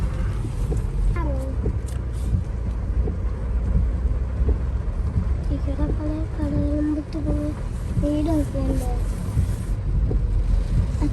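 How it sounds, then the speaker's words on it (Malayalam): Heavy rain pours down outdoors in Kottayam, a dense, continuous roar of rainfall and wind buffeting the microphone, with people talking underneath throughout. "ഭയങ്കര കോരി ചൊരിയുന്ന മഴയാണ് ഇവിടെ"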